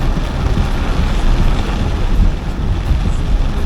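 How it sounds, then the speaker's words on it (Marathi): Heavy monsoon rain and strong gusting wind along the Mumbai-Goa highway, a dense, loud, continuous roar with deep rumbling buffeting, no voices. "इथे बघू शकता तुम्ही वारा आणि सोसाट्याचा वारा सुटलाय आणि मुसळधार पाऊस"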